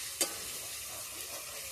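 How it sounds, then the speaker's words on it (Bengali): Chopped tomatoes are dropped into ginger and garlic frying in a pan, giving a steady close sizzle with one brief knock near the start. "এবার আমি দিয়ে দিচ্ছি এর মধ্যে টমেটো কুচি"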